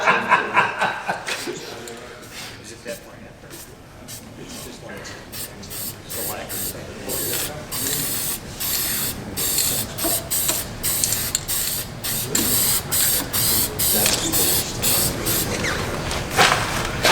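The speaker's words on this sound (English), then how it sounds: "We're gonna put another coat of sanding sealer out here, just because." Finisher's Edge sanding sealer sprayed onto a wood platter in repeated short hissing bursts, fairly close and steady, with people talking and chuckling around it.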